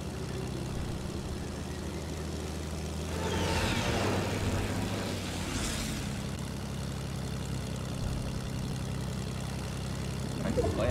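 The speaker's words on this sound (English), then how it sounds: "Where'd that plane come from?" Airplane passing in Fortnite, a steady propeller-engine drone with a swelling whoosh as it flies over partway through, holding a constant hum throughout.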